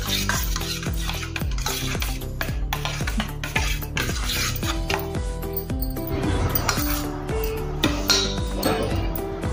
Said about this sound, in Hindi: अब इसको हम मिक्स करेंगे अच्छे से।